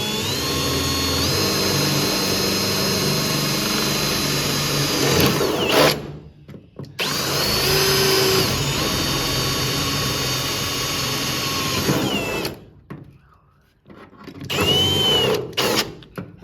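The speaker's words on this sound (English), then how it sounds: "I'm just going to drill right in place," A power drill whines in long bursts with short pauses between, close by, its pitch shifting as it bites through the metal of a Mopar A-body car hood, drilling 3/16-inch holes.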